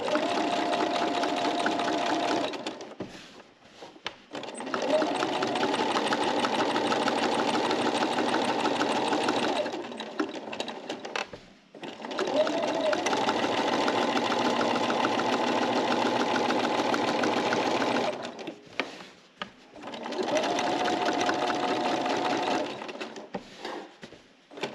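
Sewing machine quilting along a seam on a quilt-as-you-go block, running loud and steady in three long bursts with short pauses between, no talking.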